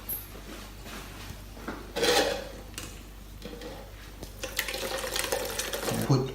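An herbal drink is poured off a hob-heated pot into a container, giving a watery splashing pour with clatters of utensils, louder bursts near the middle and end.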